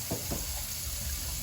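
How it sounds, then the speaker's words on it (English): Tap water runs into a sink during hand-washing of dishes, a faint steady trickle with two brief soft splashy bursts near the start. "I don't want to splash that water all over me"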